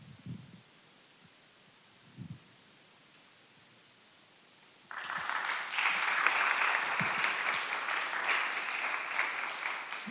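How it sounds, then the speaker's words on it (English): Audience applause for a panel at a community event on trauma starts midway, a sustained spread of clapping from a fairly large crowd following near-silence with a few faint bumps. "You all preempted me in asking for a round of applause for our distinguished panel"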